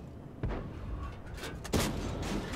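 Tank cannon shots in a tank video game, two sharp booming blasts about a second apart standing out from a low rumbling battle background, close and loud, with no talk over them.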